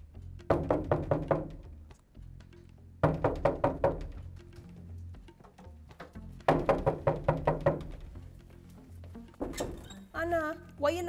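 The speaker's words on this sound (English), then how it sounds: "why are you knocking down my door?" Loud, insistent knocking on a door in three rapid bursts of heavy thuds separated by short pauses, followed by a voice at the end.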